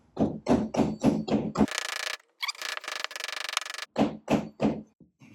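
A series of sharp, evenly spaced hammer blows driving a nail, then a pause with a rasping, grinding burst, and a few more strikes close by.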